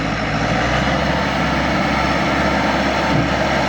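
Tractor engine labouring as it climbs a freshly cut, low-grip track, a loud continuous broadband roar that holds steady throughout, close and dense with no voices.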